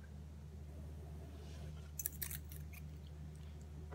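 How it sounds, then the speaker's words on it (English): Scissors snip the tag end of fishing line off a knot tying on a chatterbait lure: two or three quick, crisp cuts close by over a steady low hum. "you can cut the tag end off, boom, cut the tag end"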